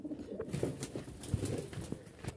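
Pigeons kept for sale in a small coop, with a male cooing in display: soft, low rounded coos repeat unevenly over a faint rustle, fairly close and moderately quiet, with no voices.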